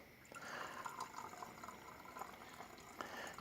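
Unused methylated spirits fuel poured through a rag into a bottle, a steady faint liquid trickle and splash that carries on without pause.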